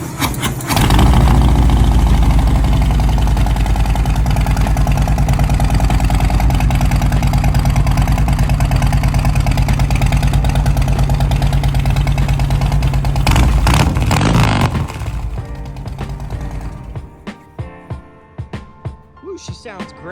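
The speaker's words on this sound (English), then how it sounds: "we're gonna go ahead and give the exhaust a listen here." A 2019 Harley-Davidson Softail Deluxe motorcycle idles up close with a loud, deep, steady exhaust rumble, then cuts off abruptly, leaving faint handling noises.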